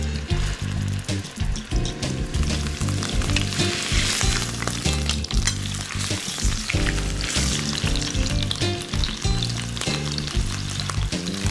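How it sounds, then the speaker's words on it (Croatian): Trimmed beef fillet sears in heated olive oil in a pan, a loud, steady crackling sizzle that holds without a break, with no voices. "popržimo ga na ugrijanom maslinovom ulju"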